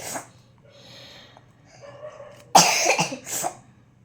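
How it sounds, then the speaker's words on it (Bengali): A child with a mild lingering cough gives a couple of faint breathy sounds, then one loud, close, harsh cough burst followed by a shorter second one. "কাশিটা সামান্য আছে"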